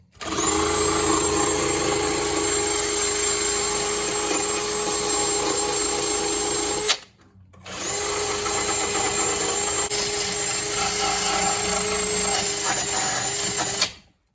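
A power drill with a stiff-bristled wire brush wheel whirs steadily with a harsh scrubbing rasp on a 1981 Dodge Mirada, stopping briefly halfway before spinning up again for another long run.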